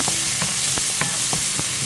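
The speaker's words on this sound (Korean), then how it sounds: "다진 마늘과 함께 아까 썰어 놓았던 청양고추를 볶아줍니다." Minced garlic and chopped Cheongyang chili peppers stir-fry in a hot pan for a soybean sprout dish, giving a steady loud sizzle with several sharp scrapes of a utensil stirring at irregular intervals; no voices.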